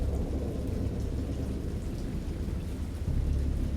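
Steady, dense rain pours down in a thunderstorm with a low, rumbling roar of thunder underneath, loud and continuous throughout with no voices.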